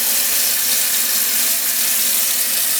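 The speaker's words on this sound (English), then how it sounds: "you fill your sink with a little bit of water," Hot water pours steadily from a tap into a kitchen sink, a loud, even hiss and splash that continues without a break for a few seconds.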